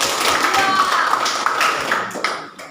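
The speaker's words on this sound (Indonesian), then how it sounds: "Baik, tepuk tangan buat kelompok." Classmates clap for a group after its discussion presentation, a dense burst of applause from a room full of people that tapers off toward the end.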